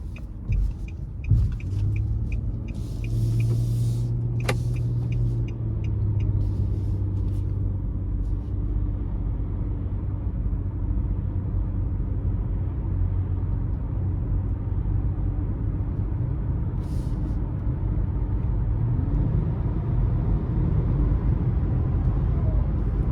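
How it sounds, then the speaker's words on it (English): A 2023 Nissan Murano SL is driven on the road, heard from inside as a steady low engine and road rumble with tyre noise, a faint hum rising and falling briefly near the start. "let's go ahead and take this Murano out on the road for a quick test drive"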